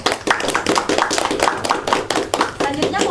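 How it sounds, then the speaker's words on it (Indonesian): Classroom applause for a student group, a quick patter of several hands clapping for about three seconds with voices talking over it. "beri tepuk tangannya."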